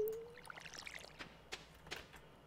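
Watering crops in the Stardew Valley farming game: a quiet, soft pouring trickle of water with faint splashy droplets, running steadily for a couple of seconds with no talk.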